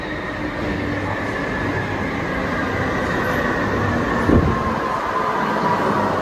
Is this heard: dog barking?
no